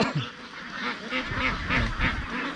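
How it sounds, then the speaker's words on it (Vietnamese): A flock of ducks beside a pond on a Vietnamese poultry farm quacks continuously, with overlapping rhythmic calls at moderate distance and steady outdoor background. "Đây, vịt đây các bác."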